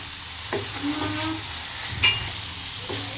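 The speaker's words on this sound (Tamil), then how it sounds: "இப்போ நல்லா வதக்கி விட்டுடலாம்" Chicken coated in masala sizzling and frying in a pan for Chettinad pepper chicken sukka, with a steady hiss broken by a few louder stirring scrapes, close up and with no talk.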